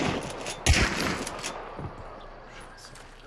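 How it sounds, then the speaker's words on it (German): Gunfire in the video game Hunt: Showdown, a sharp loud shot near the start followed by a couple of fainter reports over a noisy, rumbling game ambience. "Okay, ich muss schießen, ich muss schießen."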